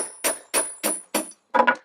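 A threaded rod strikes the metal flange of a round beehive mould to knock it loose, giving five sharp, ringing taps in close succession, the last a quick double hit, with no talking.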